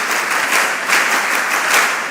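Audience applause at a mentorship session, a dense, steady wash of many hands clapping alone with no talk, fairly loud and sustained throughout.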